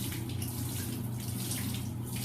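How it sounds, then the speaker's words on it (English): A faucet runs gently into a sink while clear coat is rinsed out of a brush, a soft continuous splash with a low steady hum beneath it and no voices. "Run it underwater, just turn it on slightly, move it back and forth."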